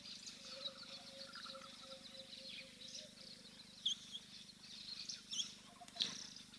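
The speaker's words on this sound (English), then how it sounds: "lovely to hear all of the birds in the background as well" Birds chirp and call faintly in the background at a wildlife waterhole, scattered thin tweets over a soft, steady outdoor ambience with a few brighter calls standing out near the end.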